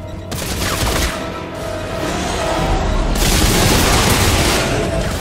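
Gunfire in the Dead Space 3 video game, a loud, dense burst of rapid shots and booming blasts that keeps rolling for several seconds with little break, heavy and close.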